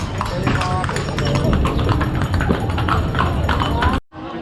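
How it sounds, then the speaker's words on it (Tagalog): Horse hooves clip-clop in a quick, steady rhythm on hard ground nearby, with people talking over them before the sound cuts off. "May kabayo."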